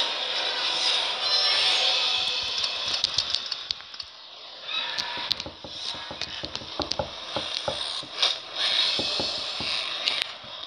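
Prize wheel in the Jurassic World video game spinning, a steady mechanical whir breaking into a run of sharp ratcheting clicks that grow sparser as it slows.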